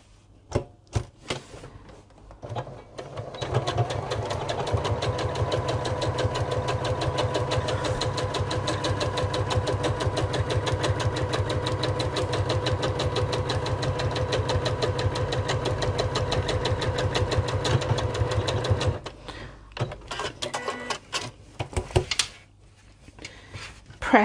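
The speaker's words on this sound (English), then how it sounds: "we're just gonna sew a quarter of an inch away" A sewing machine runs a quarter-inch seam on a Sew Together Bag in one long, steady, close stretch of rapid stitching, with handling clicks before and after.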